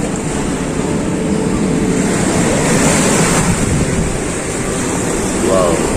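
Ocean surf at Geger beach in Bali roars as a steady, loud wash of breaking waves, with heavy wind buffeting the microphone throughout and no clear speech.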